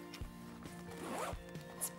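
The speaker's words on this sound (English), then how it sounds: "Here's a zipper pouch." The zipper on a pouch of a Pelican S130 Sport Elite ripstop nylon backpack is pulled, a faint, brief rasping zip against quiet room tone.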